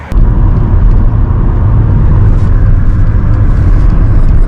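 An old car pulls away on a long rural road, a loud, close, steady low engine rumble and road noise filling the whole stretch without any talking.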